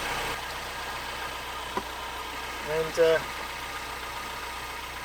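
A Mazda MX-5 NB idles steadily at close range, its low, even engine hum running under a voice, with a brief click and a short mechanical rattle near the middle.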